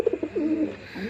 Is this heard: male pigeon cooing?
yes